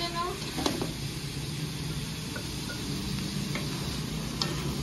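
Garlic butter shrimp sizzle in a very hot wok, a continuous crackling hiss with occasional light clinks of a utensil against the pan.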